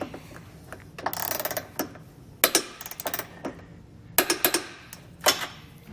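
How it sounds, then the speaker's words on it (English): A ratchet wrench with an 18mm socket tightening trailer hitch hardware on a 2014 BMW X3, rapid close clicking bursts in several separate runs with short pauses between. "Then we're going to take an 18mm socket, tighten and torque our hardware to the specifications and the instructions."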